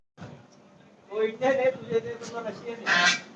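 Honking calls of ducks or geese at a temple visit near Karla, Lonavala, rising in several bursts over steady background noise, with people talking nearby.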